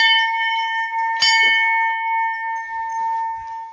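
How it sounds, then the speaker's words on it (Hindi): A small brass temple bell at the Maa Padmavati shrine struck once, its bright metallic ring sustaining and slowly fading over several seconds, close and clear with faint background noise. "और ये देखिए छोटी सी घंटी"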